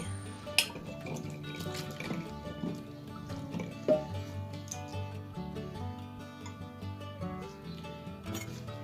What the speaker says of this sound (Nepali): लसुनलाई पनि हामीले राम्रोसँगले पखाल्नुपर्छ पानीले।